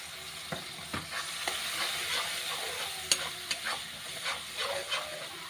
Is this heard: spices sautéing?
yes